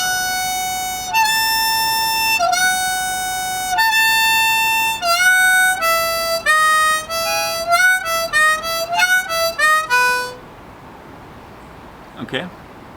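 Harmonica in E plays an intense passage that walks back and forth between notes in quick bends and repeated phrases, loud and close, for about ten seconds before stopping, followed by a faint brief noise.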